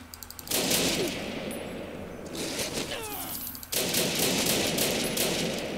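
Rifle gunfire in Fallout New Vegas: loud, rapid bursts of shots in two long strings separated by a short gap, with some creature or impact sounds mixed in.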